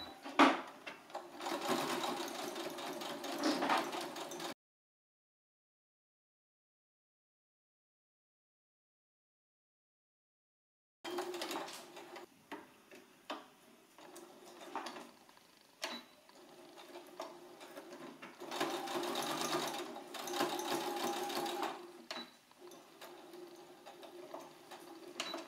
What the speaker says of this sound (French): On réalise une couture à 1 cm de chacun des côtés.